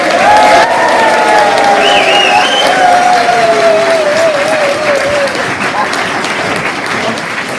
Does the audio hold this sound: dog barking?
no